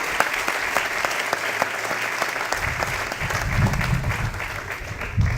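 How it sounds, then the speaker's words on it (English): An audience at a ground-breaking ceremony applauds steadily, a dense wash of clapping that runs the whole stretch and swells slightly near the end. "a real round of applause for Minister Lee for his hard work and everything he has done for this project"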